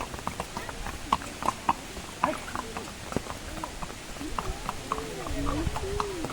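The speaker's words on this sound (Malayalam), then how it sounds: "കുതിരയുണ്ട്." Horse hooves clip-clop along a forest path at Matheran hill station during the July monsoon season, an irregular trail of close hoof strikes with people talking over them.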